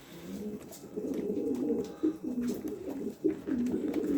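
Pigeons coo steadily, soft rolling calls repeating close by, with no talking.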